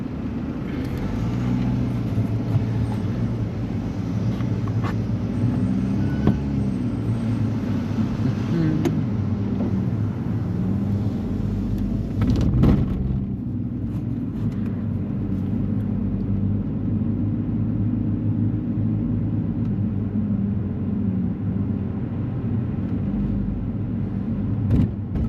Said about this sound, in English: let's hop in and see how a Diesel 1 Series performs